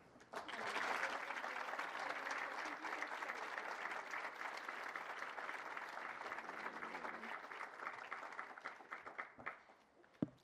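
A crowd at the announcement of the 107th Rose Queen applauds Olivia with sustained, full clapping. It swells quickly, holds strong for several seconds, then thins into scattered claps before a final single clap.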